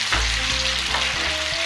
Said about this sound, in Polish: Na dobrze rozgrzaną patelnię wlewam olej. I na tęże wrzucam dosyć sporo pokrojonej w cienkie wiórki cebulę.